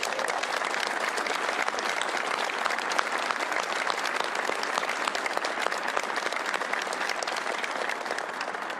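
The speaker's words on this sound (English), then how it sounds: "I'd like to take a moment and ask that all of you give them a round of applause" A crowd at the NASA X-59 supersonic plane rollout applauds steadily, dense clapping filling the whole stretch at an even, strong level without pause.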